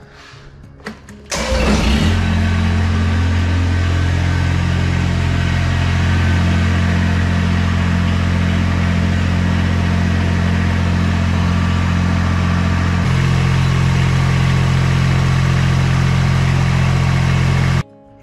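A Kubota BX compact tractor engine cranks and fires, then runs at a loud, steady idle with a constant low throb, shifting slightly in pitch partway through before cutting off at the end, with no talking.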